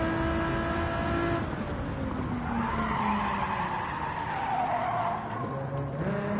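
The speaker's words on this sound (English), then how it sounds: "See how much tyre squeal I got?" Sustained tyre squeal from a race car braking hard into a corner on a racing lap, a continuous loud screech with shifting pitch over engine drone, close and steady throughout, no voices.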